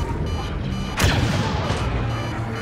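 A tank fires in a video game, a sudden loud shot about a second in with a crashing tail that settles into steady rumbling background noise.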